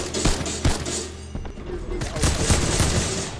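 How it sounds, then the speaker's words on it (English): Bursts of gunfire in a Fortnite match, several sharp shots in quick succession at moderate loudness, heard over ongoing game sounds with a voice talking faintly underneath. "Somebody just trying to shoot me from the right side over here with the big towers"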